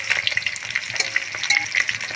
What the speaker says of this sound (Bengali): ভাজার জন্য ছেড়ে দেবো